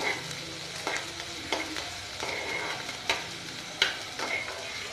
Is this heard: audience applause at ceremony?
no